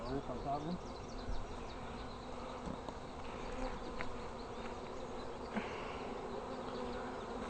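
Dense, steady buzzing from a swarm of honey bees around a rooftop, a continuous hum with individual bees passing close, fairly faint overall and without speech.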